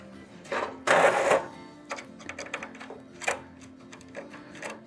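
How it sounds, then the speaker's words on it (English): Screws being backed out of a surge suppression module on an RTU back panel, with a brief loud rasping burst followed by scattered light ticks and clicks of the tool, close up and without talk. "We're going to remove these two screws on this one and show you how to remove this module."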